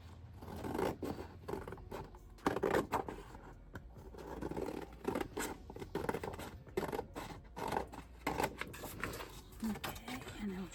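Scissors cutting paper for a gothic double waterfall folio craft, with irregular snips and scraping paper rustle close by and quiet, alongside handling noises.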